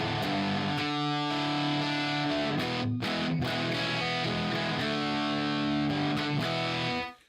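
An electric guitar played through a stock, unmodified SoHo amplifier, with distorted chords ringing loud and sustained before cutting off at the end; no one talks.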